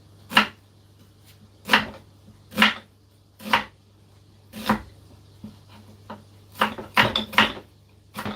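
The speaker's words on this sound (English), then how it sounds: "Onions are chopped." A knife chops onions on a board in a Ghanaian kitchen. Firm, sharp strikes fall at a steady pace, then quicken into a rapid cluster near the end, close and clear over a low background hum.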